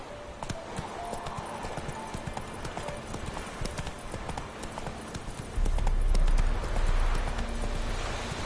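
Horse hooves clip-clop at a gallop in The Witcher video game, a steady rapid rhythm throughout that grows louder and heavier in the last few seconds.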